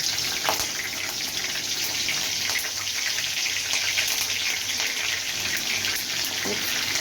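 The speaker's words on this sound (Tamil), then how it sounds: "நல்லா பொரியட்டும்." Curry leaves sizzle and crackle in hot oil for a chicken gravy, a steady dense hiss of frying with scattered pops throughout, close and continuous with no talking.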